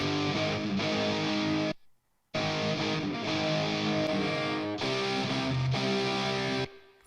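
Raw, unprocessed rhythm guitars from a pop track play alone, dense and sustained strumming in loud continuous blocks with a brief dropout near the middle and a short break toward the end.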